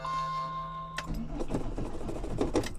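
A car engine cranks but fails to start. After a steady electronic tone cuts off, the starter churns in a quick, uneven rhythmic whirr that is fairly close and continuous, with no talking.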